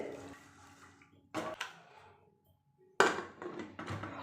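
Water is poured into a pot in two short splashing bursts, with a quiet pause between them.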